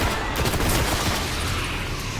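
Loud, dense gunfire fills the Xbox One beta of Destiny, with shots packed closely together in a steady stream and no voices.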